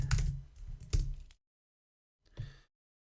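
Computer mouse clicks while someone browses web pages: a quick cluster of sharp, close clicks, then a pause and one more brief click against near silence.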